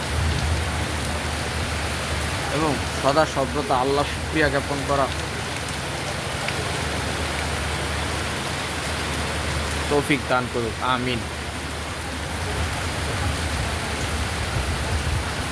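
Steady rain falls in a continuous close hiss throughout, while someone speaks over it at intervals.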